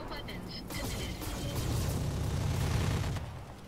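A barrage of weapons fire in the Roguetech mech game, including a fluid gun, rolls out as dense booming and crackling bursts that build into a sustained roar.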